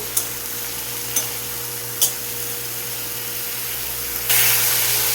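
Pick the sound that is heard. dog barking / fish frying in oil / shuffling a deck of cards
fish frying in oil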